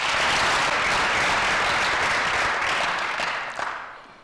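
An audience at a performing arts competition festival applauds for a prize winner: dense, steady clapping from a crowd that holds loud, then thins and fades near the end.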